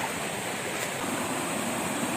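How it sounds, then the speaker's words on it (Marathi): Waterfall water in Kharghar, Navi Mumbai, flowing in a steady, even broadband rush close by, with no break or voices across the short stretch. "मंडळी, बघू शकतात वॉटरफॉलचं पाणी खालीपर्यंत येतं आहे।"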